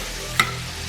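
Shrimp laid flat in a hot pan fry with a steady, close sizzle, broken by a single short click or pop partway through.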